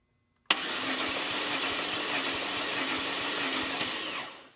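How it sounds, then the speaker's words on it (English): A car engine cranks over steadily on the starter with the gas pedal held down during a compression test on a suspected internally damaged engine, a loud continuous whirring drone lasting about four seconds before stopping. "crank the engine over 5 times for each cylinder with the gas pedal pressed down"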